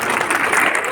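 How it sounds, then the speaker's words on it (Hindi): A crowd claps briefly at a school prize distribution function held alongside a memorial cricket tournament, a dense burst of applause heard at close range. "तालियां बजा"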